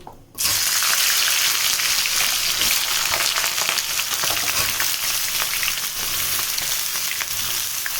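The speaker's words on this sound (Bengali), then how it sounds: "তেল গরম হয়ে গেছে এবার জিরে ফোড়ন দিয়ে দিলাম হালকা লাল লাল করে ভাজা হয়ে গেছে এবার লতি দিয়ে দিচ্ছি" Taro stolons (loti) tipped into hot oil already crackling with cumin seeds set off a loud, steady sizzle and spatter that fills the whole stretch after a brief quiet start.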